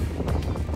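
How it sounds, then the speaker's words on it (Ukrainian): Strong outdoor wind buffets the microphone, producing a brief, loud, low, rumbling roar that covers the whole moment. "тут сильний вітер"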